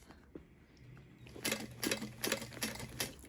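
Sewing machine stitching a seam on an iPad sleeve at five stitch length, running in several short rhythmic bursts after a quiet start, close and steady with a low motor hum beneath.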